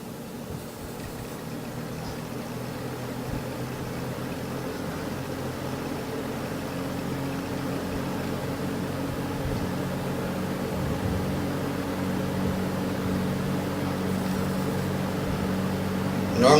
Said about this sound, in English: We'll start with the 22 on the left first. We'll show the low speed.